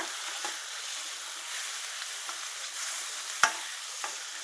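Chicken pieces stir-frying over high heat in a pan for Hakka noodles, giving a steady, even sizzle throughout with a sharp clatter of the utensil near the end.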